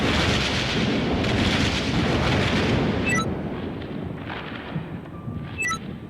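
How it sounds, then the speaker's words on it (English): During a thunderstorm, a loud, sustained rumble of thunder rolls on, then eases into a lower, uneven grumble, with a couple of short, sharp crackles partway through. "The thunder booms again, louder than ever"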